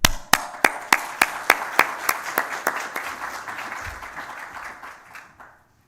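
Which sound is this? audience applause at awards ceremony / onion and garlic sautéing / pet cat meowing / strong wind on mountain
audience applause at awards ceremony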